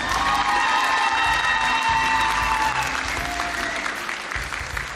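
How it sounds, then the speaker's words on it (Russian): A crowd applauds at a televised selection round of a talent show, with dense, loud, sustained clapping and some cheering throughout, no speech over it. "Аплодисменты"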